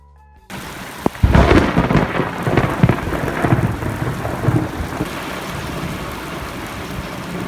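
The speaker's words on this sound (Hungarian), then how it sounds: "Később megint őrületes vihar támadt, ami errefelé szinte mindennapos ebben az évszakban." Heavy thunderstorm in South Africa, with a loud thunder crack and deep rolling rumbles over steady rainfall that keeps going throughout.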